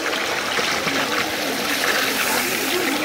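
Water pours steadily into a pan of village-style Katla fish kalia, a continuous close splashing wash that runs unbroken throughout with no speech.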